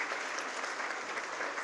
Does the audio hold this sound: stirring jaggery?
no